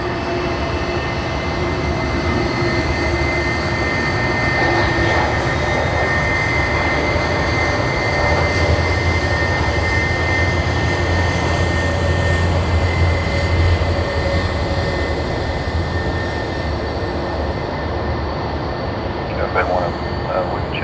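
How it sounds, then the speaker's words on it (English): A Qantas heavy jet on flight QF44 arrives at Sydney Airport, its steady engine roar and rushing noise sustained and fairly distant, with an announcer and radio chatter talking over it throughout. "the first heavy arrival of the day, Qantas QF44"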